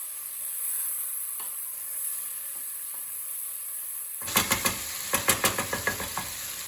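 Poppy greens and potatoes stirred in a sizzling pot, with a quiet stretch first and then a burst of rapid close scraping strokes over frying.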